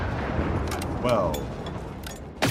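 Gunfire against a robot in the video game Generation Zero, a few sharp shots spread across the moment with a louder burst at the end, under a steady background and a voice speaking.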